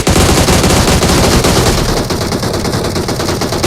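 Loud, dense automatic gunfire in the shooter game PUBG rattles in rapid continuous bursts, close and harsh, easing slightly after the first couple of seconds.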